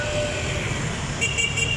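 Road traffic hums and rumbles steadily nearby, with a few short horn toots near the end, heard from a bike ride along the roadside.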